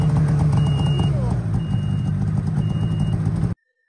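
A snowmobile engine idles and revs steadily up close in the snow, with a repeated beeping over it, then the sound cuts off abruptly.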